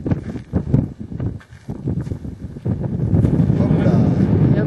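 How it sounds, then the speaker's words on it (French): Wind blows across the summit of a volcano crater on Fogo, a steady loud buffeting on the microphone that swells and holds, with people talking over it at first. "Il y a un peu de vent sur le haut."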